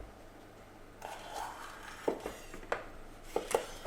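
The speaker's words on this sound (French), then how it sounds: "On coupe les poivrons, on épépine." A knife cuts and seeds red and green bell peppers for a Provençal flan, with faint rustling followed by close, sharp knocks of the blade on a cutting board at an irregular pace.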